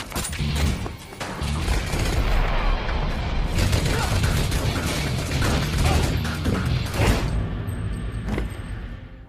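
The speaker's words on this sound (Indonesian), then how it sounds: "hingga terjadilah baku tembak yang sangat sengit" Intense film gunfight against a Chinese mafia boss's henchmen: dense, continuous barrage of loud shots, crashes and impacts filling the whole stretch with hardly a pause, easing slightly near the end.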